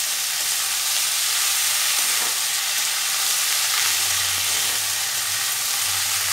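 Washed and drained onion flower stalks fry in a pan with a continuous, loud, even sizzle that stays close and steady throughout, with no talking.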